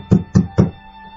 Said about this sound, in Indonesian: suara ketukan di luar pintu kontrakan Adnan